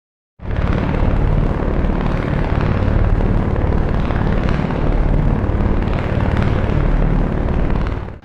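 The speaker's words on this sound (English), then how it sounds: "One helicopter." A toy helicopter sound starting abruptly after a moment of silence, a loud, steady whirring roar held for several seconds and then cutting off, with no talking.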